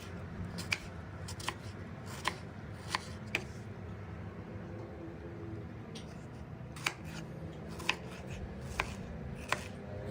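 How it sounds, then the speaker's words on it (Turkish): A knife chops through washed, peeled peaches into half-moon slices in sharp, separate cuts, a handful in quick succession, a pause, then several more, close and clear. "Yıkayıp ve soymuş olduğumuz şeftalilerimizi bir bıçak yardımıyla yarım ay olacak şekilde"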